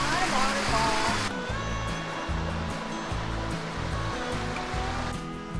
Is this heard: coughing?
no